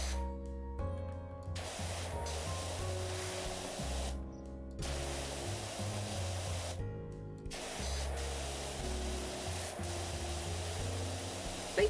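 Pressure washer spray from the wide green nozzle in PowerWash Simulator, a loud continuous hiss broken by several short gaps where the trigger is released, then resuming, with a low hum underneath.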